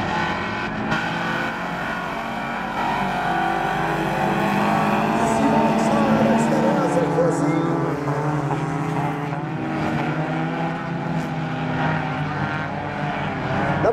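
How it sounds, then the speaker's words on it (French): Stock cars race on the Club de Stock Car Baie-des-Chaleurs track in New Richmond, Gaspésie, giving a continuous loud roar of engines with rising and falling revs as cars pass and battle for position. "La voiture 23 qui est allée large et Simon en profite"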